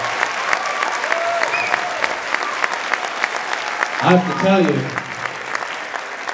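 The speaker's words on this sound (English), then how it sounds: "round of applause for them" A school audience claps for a sixth grade band at a winter band concert, a sustained round of applause with scattered sharp claps, while a few voices speak briefly over it partway through.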